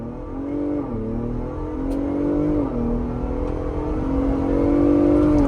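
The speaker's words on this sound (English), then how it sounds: "Let's do an acceleration run" A Ford Bronco Raptor with a V6 engine accelerates hard, its engine note rising, dipping briefly at gear shifts and climbing again; a loud, steady interior roar with no talking.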